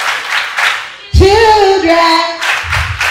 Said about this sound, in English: MCA clap for Sister.